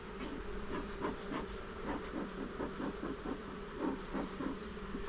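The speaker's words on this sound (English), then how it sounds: "these are nice bees" Steady dense buzzing of many honey bees around a Flow Hive and a Langstroth hive, continuous and close, with no voices.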